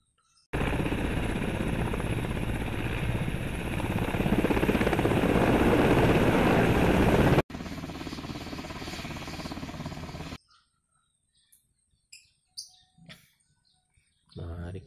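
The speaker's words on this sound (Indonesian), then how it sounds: "Wow, helikopter." Toy helicopter with a steady, loud whirring drone lasting several seconds, then a quieter continuation, followed by near silence with scattered faint chirps and brief sounds.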